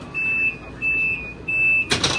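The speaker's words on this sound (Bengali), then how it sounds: "দরজা ক্লোজ করতেছে।" High-speed train door closing at a station stop on a Beijing to Yangzhou journey: a steady warning tone repeats in three pulses, followed by a brief burst of mechanical door noise at the end.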